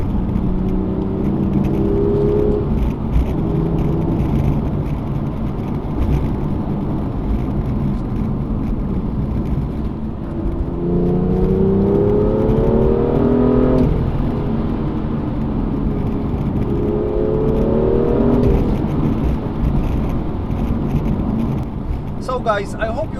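BMW M2 with the N55 engine driven through town and at speed, its engine note rising in repeated revving sweeps over a steady road roar, heard from the cabin while someone talks throughout.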